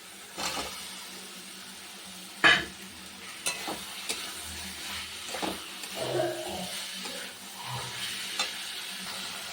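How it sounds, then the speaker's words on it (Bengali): Cauliflower and potato are stirred and fried in a spice masala in a pan, giving a faint sizzle with scattered scrapes and knocks of a spoon against the pan, quiet and close. "এবার ফুলকপিটা আর আলুটা দিয়ে দেবো। এটা দিয়ে একটু কষাবো।"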